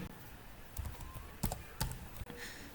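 A few soft keystrokes on a computer keyboard, spaced irregularly and close, over a faint background hum.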